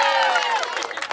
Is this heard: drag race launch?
no